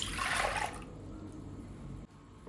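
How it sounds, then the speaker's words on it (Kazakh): Warmed water and milk are poured into a bowl, a short liquid splash lasting under a second, close and fairly faint, followed by quiet room tone and a small clunk. "Міне су мен сүтіміз жылыды. Енді ыдысымызға құямыз."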